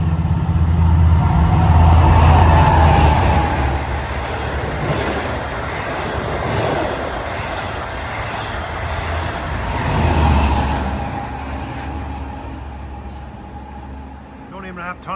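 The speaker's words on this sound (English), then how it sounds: "Here comes another diesel." LIRR diesel train passing on triple track, a loud, continuous rumble and wheel roar close by that swells and fades over several seconds, with a steady engine drone underneath.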